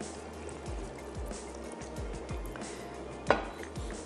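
Water poured from close by into a blender holding green chilies and other ingredients for prawn mirch masala, a short run of gurgling, splashing pours with a small knock near the end, no voices.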